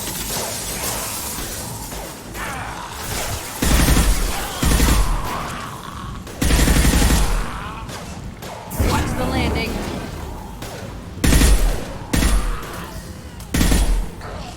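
Rapid bursts of gunfire and impacts in a sci-fi firefight in Mass Effect 2, loud and repeated in clusters over a steady battle din, with shouted voices between the shots.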